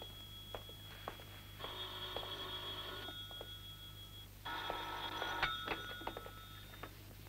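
An indoor telephone rings in two long electronic bursts separated by a pause, moderately clear over a steady low hum with faint clicks.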